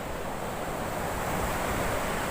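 Ocean waves wash onto a beach in Goa on the Arabian Sea, a steady, broad roar of surf with some wind noise across the microphone, continuous and fairly loud throughout, with no voices.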